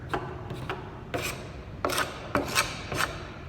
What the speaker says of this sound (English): You may have to use the corner of the glue scraper to get down into little grooves and stuff.